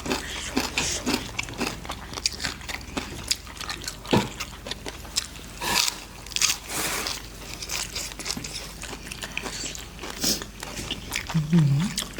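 Crunchy pork rind being bitten and chewed close up during a Thai seafood papaya salad meal, with repeated crisp crackling bites and wet mouth sounds over steady background noise and occasional talk.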